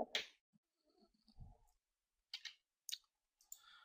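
A computer mouse clicks a few times at a desk in a quiet room, with short crisp clicks spread across a few seconds and faint handling noises in between.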